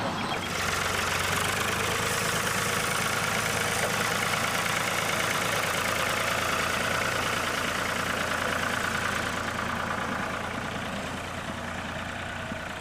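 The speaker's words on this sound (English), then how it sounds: "tractors are coming in from all directions" Continuous loud rumble of tractor engines running and idling close by as tractors arrive at a competition, a dense mechanical drone that eases slightly toward the end.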